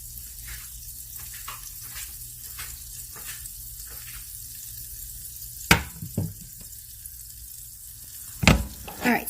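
Vegan butter sizzling in a frying pan while French toast is made: a soft, steady sizzle stays low and close, broken twice by sharp knocks of utensil against pan.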